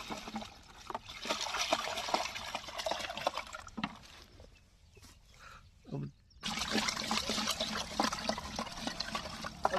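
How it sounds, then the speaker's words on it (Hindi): Pesticide solution being stirred into water with a wooden stick on a tomato farm: a steady close watery swishing and trickling, with a brief quieter break in the middle before the sloshing resumes. "अपने को कंटिन्यू ऐसे लकड़ी के माध्यम से हिलाते रहना है"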